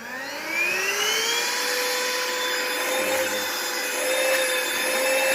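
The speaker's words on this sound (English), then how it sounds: "My dogs hate this vacuum." A cordless vacuum cleaner powers up and runs steadily, its motor whine rising after a brief start and then holding a loud, close, high-pitched drone with no talking.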